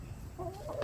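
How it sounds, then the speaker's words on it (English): Backyard chickens give short, close clucks that rise briefly near the end of the moment. "Watch what the chickens do every time I open this."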